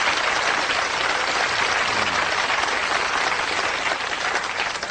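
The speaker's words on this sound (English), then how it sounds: "Give yourselves a round of applause" An audience applauding, a dense, steady roar of many hands clapping at once, loud and sustained throughout with no talk over it.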